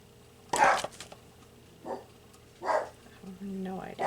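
A dog barks indoors in a few sharp, separated bursts, moderately close, with human voice sounds in between.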